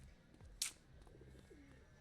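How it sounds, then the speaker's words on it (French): A pigeon coos softly on a city street in The Precinct, a few low throaty notes over quiet ambient background, with a sharp click just before. "Il y a un pigeon qui me dérange."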